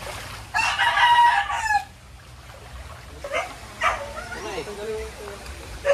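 A rooster crows loudly nearby at a chicken coop in Montalban, Rizal, during Typhoon Enteng, followed by scattered clucking and a dog's bark amid outdoor background noise.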